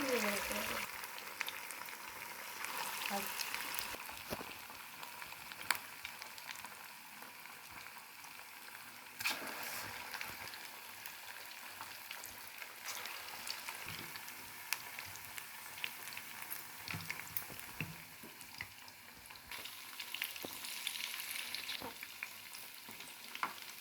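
Food frying in a pan until browned, a steady close sizzle with stirring scrapes and occasional clicks running throughout.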